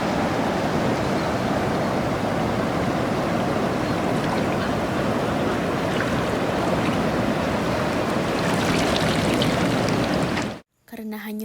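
River water flows and rushes steadily in a broad, continuous wash that holds close and loud for about ten seconds before cutting off abruptly near the end.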